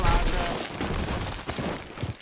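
Rifle fire crackles in Red Dead Redemption 2 during a rabbit hunt. Several quick, overlapping reports sound over a busy game backdrop, with a voice speaking alongside.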